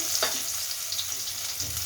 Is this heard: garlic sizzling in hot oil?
yes